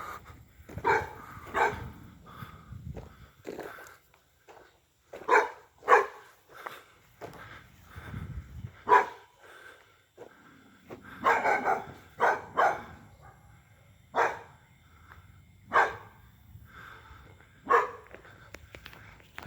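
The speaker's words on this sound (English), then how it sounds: "There's a stray dog." A stray dog barks repeatedly in short, sharp bursts with irregular pauses, fairly close, over a quiet background, in a video game.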